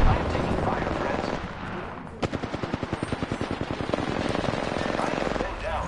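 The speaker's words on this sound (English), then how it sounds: "I am taking fire, friends." An automatic weapon fires a steady, rapid string of evenly spaced shots in Apex Legends, starting after a brief rumbling lead-in and running close and loud for about three seconds before easing off.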